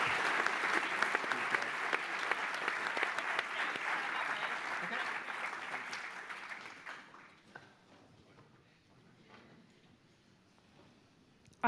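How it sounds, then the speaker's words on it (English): Audience applause for a panel at an electric vehicle summit, a steady wash of many hands clapping for about seven seconds before thinning out into scattered claps and near silence. "I would like to invite you to all give a round of applause to our lovely"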